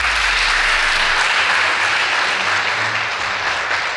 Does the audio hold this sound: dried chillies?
no